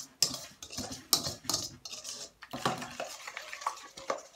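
A utensil stirs chicken pieces through a thick spiced marinade thinned with a little milk, ahead of deep-frying. Close, rhythmic scrapes and clinks against the bowl come in quick bursts with short pauses between.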